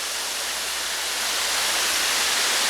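White Oak Falls pours down in a steady, loud, hissing roar of rushing water, continuous and close with no voices.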